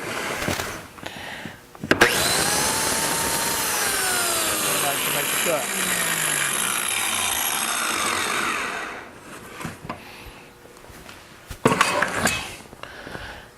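A power tool cuts a biscuit-joint slot into a wooden desk piece with a loud, steady whine of about seven seconds, framed by short clunks and handling noise.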